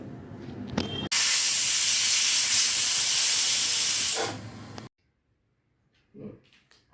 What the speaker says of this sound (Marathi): आता हा आपण गॅसवर ठेवून दोन शिट्या करून घेणार आहोत